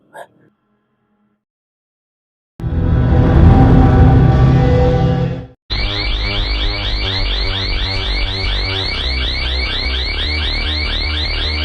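Loud, steady electronic fire alarm ringing inside a school building, a continuous pulsing tone that starts abruptly after a burst of broadband noise, filling the space without any talk.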